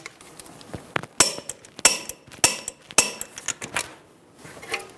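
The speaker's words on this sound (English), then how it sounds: "Torque the lower strut nuts to 116 foot-pounds." Sharp metallic clicks and taps, several spaced across a few seconds, from a torque wrench tightening the lower strut nuts on a 2010-2014 Subaru Outback front strut; close and fairly quiet, with no talking.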